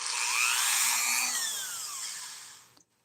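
A Dremel rotary tool whines at high speed, used while working on props, a steady bright buzz with pitch sweeping up and down as it loads and unloads, then cutting off abruptly near the end.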